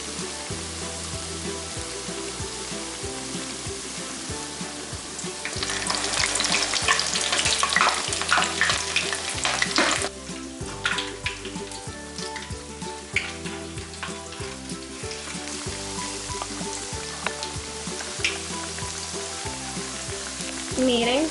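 Alcapurrias de yautía fry in very hot oil with a steady, dense sizzle, swelling louder when fritters are turned and crackling continuously throughout, with no talking heard.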